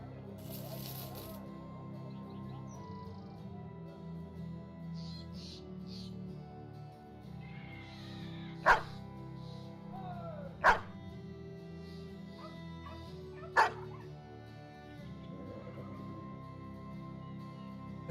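Dogs bark a few times in the Battle Brothers video game, three sharp loud yelps spaced a couple of seconds apart over steady background music and ambience.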